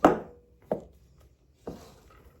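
Knife chopping celery on a cutting board, three separate crisp thuds spaced apart, close and moderately loud with no talk.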